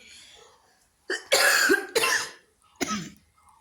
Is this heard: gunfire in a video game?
no